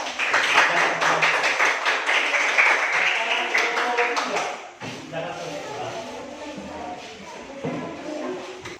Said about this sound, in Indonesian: berikan tepuk tangan kepada kelompok 4.